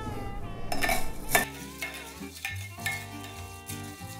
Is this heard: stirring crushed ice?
yes